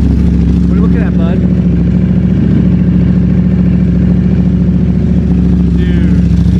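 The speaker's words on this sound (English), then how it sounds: "A dry clutch with a Termi exhaust is quintessential Ducati, you know?" A Ducati Panigale V4 SP with a dry clutch and Termignoni exhaust idles loudly and steadily with a dense dry-clutch rattle, close by, while people talk over it.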